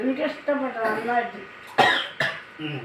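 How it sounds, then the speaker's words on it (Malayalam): A person talks briefly, then two sharp, harsh coughs burst out close by, a moment apart. "അച്ഛന് ആ എരിവ് കയറിയിട്ട് ചുമ വരെയും വന്നു"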